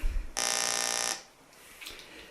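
A radiation detector app on a phone sounds a growl alert after a transient radiation hit, a loud harsh electronic buzz lasting under a second and then cutting off to quiet background.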